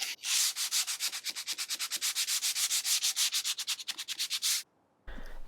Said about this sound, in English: I'm just going to give it final sanding with 180 grit